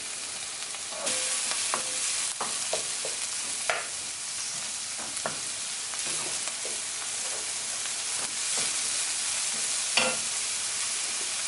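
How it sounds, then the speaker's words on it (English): Peppers sizzle and fry in a pan for a plant-based eggplant lasagna, with a steady close crackle and scattered scraping stirs over it. "So let's put our peppers in here."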